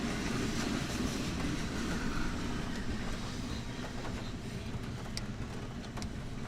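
A slow freight train rumbles steadily past at a distance, with a low continuous roar, faint rhythmic clatter of wheels and occasional metallic squeals.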